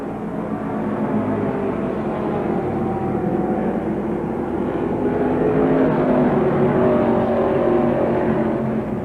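Late model super stock race cars from a 1986 season championship roar past on track, a dense, continuous engine din swelling slightly as the pack draws nearer.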